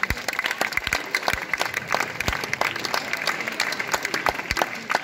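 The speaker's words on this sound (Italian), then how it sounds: "Un applauso." Audience applause at a film screening event in Mezzani during a live auction, a moderately loud burst of clapping with scattered sharp claps and some crowd noise throughout.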